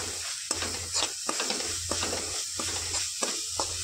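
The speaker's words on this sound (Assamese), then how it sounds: "এনেকৈ লৰাই আছোঁ।" Grated coconut and jaggery being stirred in a hot pan: a steady sizzle runs throughout, punctuated by repeated scraping strokes of the spoon at a regular rhythm, close and moderately loud, with no talking.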